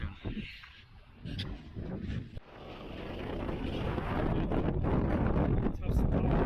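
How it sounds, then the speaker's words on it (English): Strong, constant wind buffets the microphone on a cold, snowy mountain hike up Diamond Peak in Oregon, a loud roaring rush that builds steadily with low gusty rumble and occasional breathy movement. "The wind is constant."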